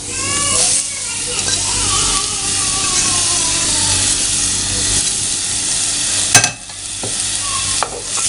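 Sliced onions dropped onto ginger and garlic frying in a clay pot for Kerala chicken curry, giving a loud continuous sizzle with stirring scrapes throughout and a sharp knock near the end.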